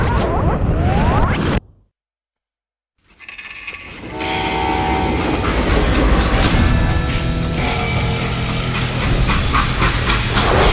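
A steam-era freight train in the Western shooter game Call of Juarez: Gunslinger rumbles and clatters loudly, with a whistle blast, a sudden cut to silence, then the rolling rail noise building back up.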